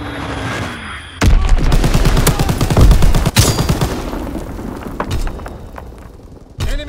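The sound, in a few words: enemy bomb strike explosions in video game Call of Duty WW2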